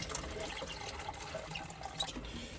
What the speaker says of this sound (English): I'm just pouring some of that in